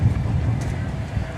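Wind blows across an outdoor airport, a low, uneven rumble of gusts against the microphone, with a voice talking over it.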